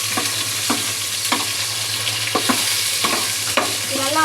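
Ginger and garlic frying slowly in a pan over low heat, a continuous close sizzle under a low steady hum, punctuated by about eight regular scraping strokes of a spoon or spatula.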